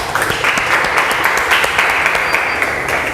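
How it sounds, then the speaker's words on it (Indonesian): A classroom of high school students claps for a group after a chemistry lesson, a brief dense burst of hand clapping close and loud, with no talk over it. "tepuk tangan untuk kelompok 1"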